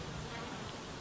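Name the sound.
flies buzzing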